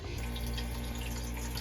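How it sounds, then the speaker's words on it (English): Manitowoc under-counter ice machine filling with water during pre-chill, a steady close hiss of running water with a low mechanical hum beneath, continuous and unbroken. "we're filling up with water until the high water level float or ice thickness float is satisfied"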